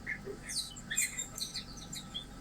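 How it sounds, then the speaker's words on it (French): A bird squawks and chirps in quick, high-pitched bursts close by for a couple of seconds over a low background hum. "ta gueule, l'oiseau"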